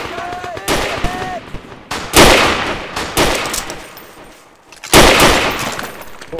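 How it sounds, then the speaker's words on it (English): Sustained machine gun fire from a WW1 video game battle, with dense bursts of gunfire repeatedly swelling loud and close, separated by brief lulls and a few sharp louder volleys. "Machine guns prone and add some suppressing fire."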